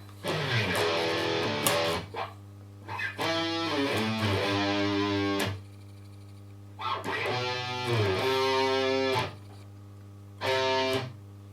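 A distorted electric guitar plays a riff in bursts with sliding notes between phrases, separated by short pauses, over a steady low hum.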